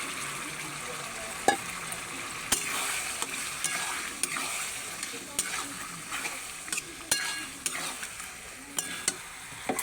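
Chicken pieces fry in salted, spiced oil in a pan, giving a steady, moderate sizzle broken by frequent sharp spoon clicks and scrapes against the metal as it is stirred.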